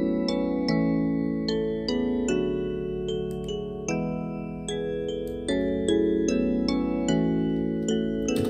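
A soft lofi keys melody and a closely matching countermelody sound together in bell-like, chiming notes, with new chords struck about every second over a steady low pad.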